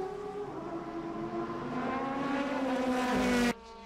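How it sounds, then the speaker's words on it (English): A Nissan race car in the 2003 Japan GT Championship roars down the front straight with its engine pitch rising steadily and loudly before cutting off abruptly at the end. "Lyons working onto the front straight"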